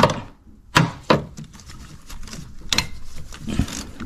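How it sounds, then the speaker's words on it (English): A ratchet loosens the bolts of a car's AC compressor: a few sharp metallic clicks and knocks spaced apart, then quieter tool and handling sounds, close by with no talking. "I'm gonna undo the first two bolts for the AC compressor"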